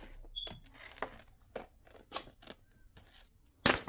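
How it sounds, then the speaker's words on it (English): Scissors snip paper for a junk journal in a series of short, close, crisp cuts at an uneven pace, with a louder final snip. "We'll just cut it like this."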